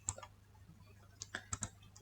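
Keys tapped on a computer keyboard while entering game code for a computer-controlled paddle: a handful of sparse, crisp clicks in an uneven rhythm, close and fairly quiet, with no voice.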